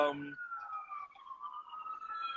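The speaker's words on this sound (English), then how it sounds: "you're gonna hear the sirens coming" A distant siren wails with a slowly rising and falling tone, faint and drawn out, following a brief bit of speech at the start.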